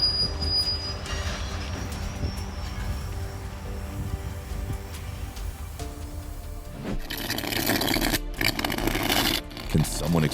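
A coal train halted after a car separation, with rumbling railcars, a high squeal early on and a burst of harsh hissing and clanking near the end, while voices talk faintly in the background.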